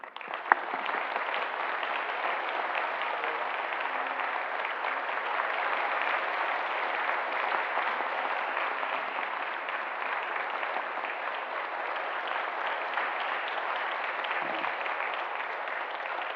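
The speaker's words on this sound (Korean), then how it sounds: "우리 목사님과 사모님 나오실 때 환영의 박수 바랍니다." A church congregation applauds in welcome at a Sunday service. The clapping is steady and continuous, moderately loud and even throughout, and no voices are heard.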